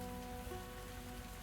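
Game rain falls as a faint, continuous patter of drops on a surface, soft and even over a quiet background with a low tonal hum, no voices.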